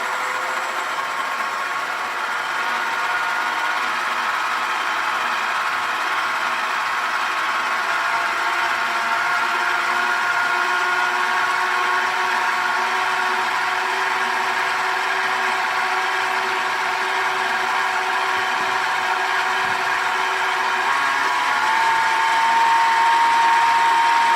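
An electric mixer whisks cookie dough in a steady, continuous motor whine with a faint rattle, holding level for most of the stretch and rising slightly in speed near the end.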